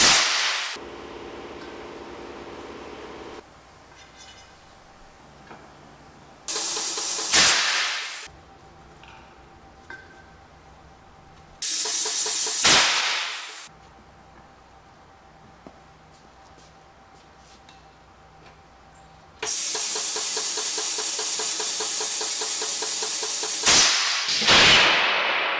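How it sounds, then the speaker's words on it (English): A bead blaster air cannon fires to seat a stretched 185/60R13 tire on a 13x10 wheel: several sharp, loud whip-like blasts, each followed by a rush of escaping air, separated by quieter stretches with a steady hum. "that the tire is flopping around once I fire the cannon"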